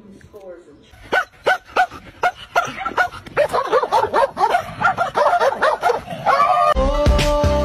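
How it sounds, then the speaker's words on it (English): A deaf female dog makes barking attempts that come out as soft, breathy yips and yelps, an irregular run of a dozen or so close bursts, with a steadier tone coming in near the end. "My deaf dog thinks she's barking."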